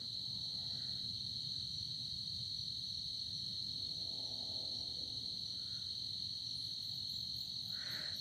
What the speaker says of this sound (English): Listen to those crickets making their beautiful sound